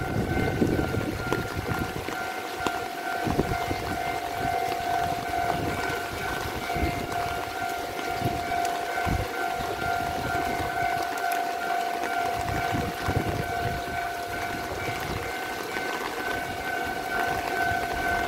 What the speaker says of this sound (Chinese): 来来来，有列车准备通过。